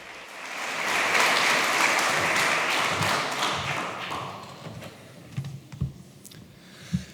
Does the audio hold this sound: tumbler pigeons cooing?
no